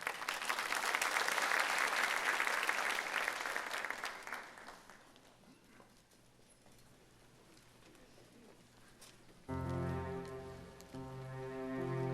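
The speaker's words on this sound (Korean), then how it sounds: "우리 박수로 한번 축복해 주시기 바랍니다" A church congregation at a Sunday worship service applauds loudly for several seconds and the clapping fades out. A soft quiet stretch follows, then sustained organ or keyboard chords come in toward the end.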